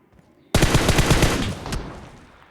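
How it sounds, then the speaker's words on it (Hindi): Automatic gunfire from an M416 rifle in a shooter video game: a sudden loud burst of rapid shots lasting about a second, then a fading echoing tail, preceded by near silence. "फिर जब यहाँ से मैंने फायर देने की कोशिश की"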